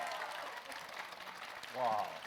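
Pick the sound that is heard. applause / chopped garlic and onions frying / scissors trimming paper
applause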